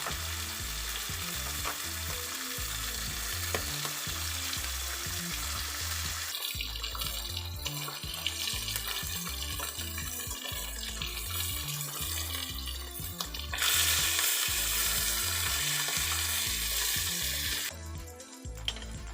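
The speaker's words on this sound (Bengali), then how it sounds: "অন্য সাইডটা ভাজা হলে ভালো করে লাল করে ভেজে তুলে নেব" Small rohu fish fry in hot oil in a pan, giving a steady, close crackling sizzle that runs throughout, with brief shifts in texture as the pieces are moved.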